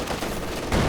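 Machine gun fire from Company of Heroes 2 during a 2v2 match: a dense, continuous rattle of rapid shots, fairly loud throughout and swelling stronger in the final moments.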